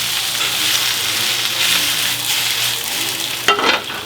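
Spinach sizzling steadily in a dry pan with no fat or water, a soft continuous hiss throughout, with a brief louder clatter of stirring with tongs near the end.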